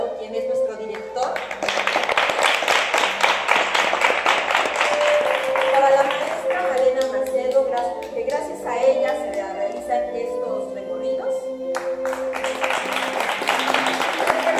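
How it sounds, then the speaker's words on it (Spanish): A theatre audience claps in bursts while someone speaks over a microphone between the rounds of applause. "También pido un fuerte aplauso"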